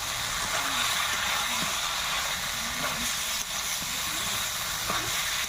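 Boiled chana dal, potato and soybeans sautéing in a pan, a loud continuous hissing sizzle close up with faint stirring scrapes, no talk.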